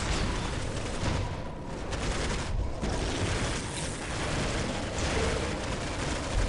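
Turrets firing in Warhammer Dawn of War, a dense continuous barrage of overlapping shots and booms that roars without pause, loud and close.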